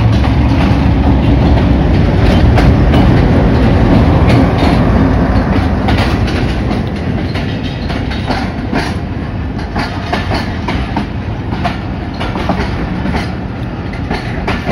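The Pakistan Express from Karachi to Rawalpindi pulls into Gujrat railway station, a loud continuous rumble of rolling coaches with clickety-clack wheel beats close by, steady throughout with no voices.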